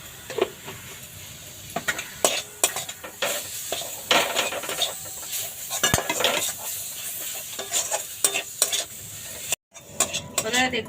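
Coriander leaf pickle being stirred in an oily pan, a soft sizzle beneath repeated scrapes and clinks of a utensil against the metal pan, close and irregular, with a brief silent break near the end.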